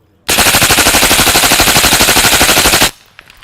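Rapid automatic gunfire from a video game hunting session, a loud, dense burst of evenly spaced shots running for nearly three seconds before cutting off abruptly into near silence.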